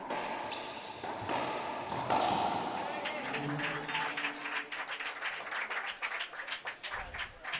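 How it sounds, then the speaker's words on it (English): Team Bolivia supporters clap and cheer from the stands at the 2018 Racquetball Pan Am Championships men's singles semifinal, a moderate burst early on that gives way to a commentator talking. "Can hear Team Bolivia cheering on their teammate."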